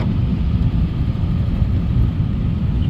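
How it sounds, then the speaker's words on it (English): Highway traffic near a state capitol heard from inside a pink Jeep, a steady low rumble of engines and tires that stays loud and constant throughout. "Here's state capitol traffic."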